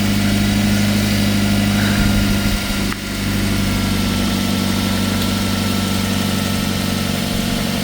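A car engine idles steadily while warming up on a snowy day in Alberta, Canada, a constant low hum with a brief dip near the middle, close by and with no talking.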